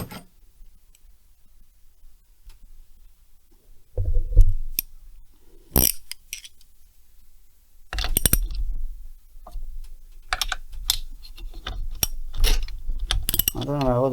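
Wrench tightening a bolt on a Stihl 070 chainsaw, a series of close metallic ratchet clicks and mechanical clatter in irregular bursts, louder in the second half, with no talking.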